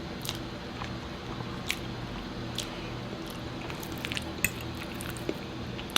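Close-up mukbang eating of a big egg from chilaquiles: soft wet squishes and small clicks of cutlery against a dish, scattered sharp ticks over a quiet, steady background, with no talking.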